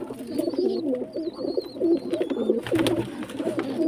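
Pigeons coo continuously in low, rolling repeated calls close by, with a few faint higher chirps above them.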